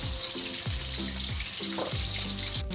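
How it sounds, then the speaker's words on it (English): Loud, steady sizzling of chicken pieces frying in a hot pan, a constant hiss and crackle with low rhythmic knocks underneath. "And the chicken's cooking away, frying here."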